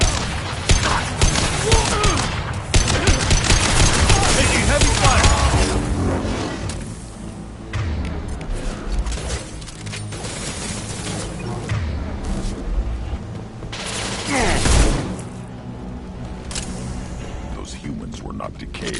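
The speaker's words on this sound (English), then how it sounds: "Taking heavy fire!" Heavy gunfire in a Mass Effect 2 battle: dense, continuous bursts of shots and impacts with booms and mechanical noise, loud throughout, mixed with voices calling out in the fight.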